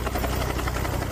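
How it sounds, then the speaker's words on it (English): A helicopter spinning out of control before crashing onto a busy tourist beach in Huntington Beach, California: loud, steady rotor thumping with a low engine drone, continuous and close, with no talk over it. "That chopper spinning out of control before slamming down on a busy tourist beach."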